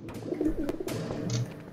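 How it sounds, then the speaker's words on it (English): Birds coo softly in the background of a Garry's Mod murder game round, a low rounded cooing with a few faint clicks around it and no voices. "Why are there bird noises?"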